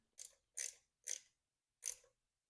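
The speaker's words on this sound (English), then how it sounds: "I'll snug down this 8mm bolt nice and tight" A hand ratchet snugs down an 8mm bolt on a Kawasaki Vulcan 750 motorcycle engine during a stator replacement: four quick, quiet bursts of ratcheting clicks, close by and separated by short pauses.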